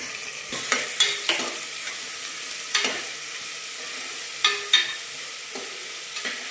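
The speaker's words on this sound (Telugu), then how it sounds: "ఉల్లిపాయలు బాగా ఫ్రై చేసుకోవాలి కరివేపాకు వేసుకుని" Onions and curry leaves frying in a pan for a non-veg curry, a steady sizzle broken by sharp scraping stirs of a spoon against the pan at irregular intervals.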